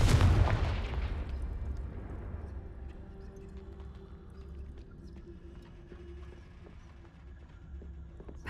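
The Confringo blasting spell from the video game Hogwarts Legacy goes off in a single loud, close burst at the start, then a rumbling decay fades out over several seconds.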